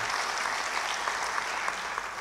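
A church congregation claps together in a sustained, even burst of applause at moderate volume, with no talking over it.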